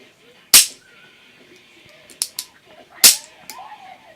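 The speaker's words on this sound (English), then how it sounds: "Fire mechanism comes out." Trigger group being pulled out of a Remington 870 12-gauge pump shotgun during disassembly: two loud, sharp metallic clacks a few seconds apart, with a few lighter clicks in between, close and otherwise quiet.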